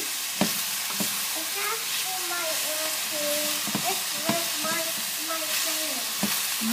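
Vegetables stir-fry in a hot pan, a constant close sizzle and hiss of steam punctuated by sharp scrapes and clacks of a utensil stirring, with faint voiced tones drifting in the background.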